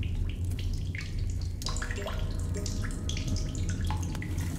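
Water in a cave in The Solus Project, heard as steady splashing and trickling with scattered drips. It runs loud and close throughout and briefly swells partway through, with no speech.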